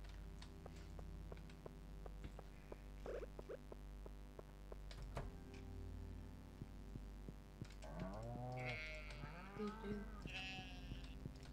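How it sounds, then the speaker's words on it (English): Cows moo on a Stardew Valley farm in winter, two drawn-out, gliding moos near the end, fairly faint and heard over a steady low hum and soft ticking game sounds, with no talk. "Cows?"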